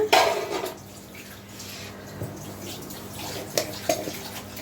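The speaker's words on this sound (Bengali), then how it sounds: "জলটা ফুটে গেছে।" Water comes to a boil in a pot for pasta, giving a low, steady bubbling hiss with a few louder splashes and pops near the start and end. No one speaks.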